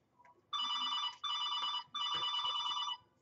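A mobile phone rings in three long electronic bursts with short gaps between them, clear and close in a quiet room, during a live trading-card box break.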